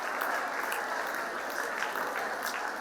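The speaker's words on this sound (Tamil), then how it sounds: "கைத்தட்டி வாழ்த்துக்கள் தெரிவிக்க மாணவர்களை கேட்டுக்கொள்கிறேன்." Students clapping for a prize winner at a school speech-competition ceremony, a steady, even patter of many hands heard from some distance, continuous throughout.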